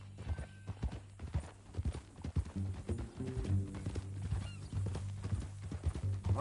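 Horse hooves clip-clop in an irregular walking rhythm within the video game Red Dead Redemption 2, close and moderately loud, with low humming tones in the background.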